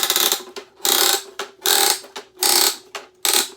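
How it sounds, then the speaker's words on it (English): Ratchet on the wheel of a NECA Monsterizer toy clicks loudly and close, in rapid bursts of clicking separated by short pauses, repeating about five times. "Oh, you can see, hear that ratchet. Ooh, that's loud."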